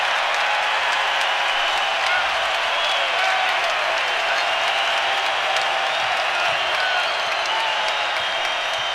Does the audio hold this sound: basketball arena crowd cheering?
yes